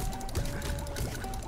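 Water splashing in SpongeBob: Battle for Bikini Bottom Rehydrated, a short continuous pouring, sloshing rush heard close and steady for under two seconds, with a faint tonal game sound behind it.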